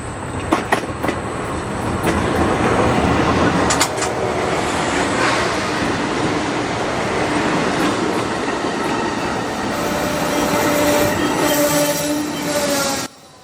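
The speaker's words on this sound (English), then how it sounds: "We will keep our attention drawn to the Amtrak Sunset Limited train" An Amtrak Sunset Limited passenger train rolls past on a Texas main line, a loud, continuous rumble of wheels with rhythmic clicks and squeals that holds steady for many seconds before cutting off sharply.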